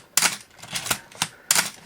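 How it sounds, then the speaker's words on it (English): A Canon AE-1 35mm film SLR with a 50mm f/1.4 lens clicks through its film advance and shutter, four crisp close mechanical clicks with short ratcheting textures between them. "Film transport is working well"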